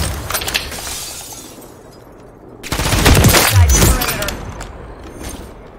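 Sniper rifle fire in Modern Warfare 3 during ranked multiplayer, heard as a sharp, loud crack and rumbling burst midway through, surrounded by quieter game noise and some speech.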